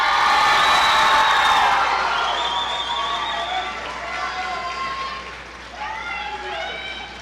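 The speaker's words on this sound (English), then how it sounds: "please keep your applause limited so all students can have their names read" A graduation crowd at a 2018 Fostoria City Schools ceremony cheers loudly for a student's name, with whoops and shouts over a broad roar that slowly fades, then a fresh burst of high whoops near the end.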